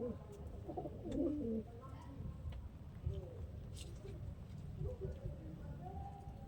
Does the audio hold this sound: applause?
no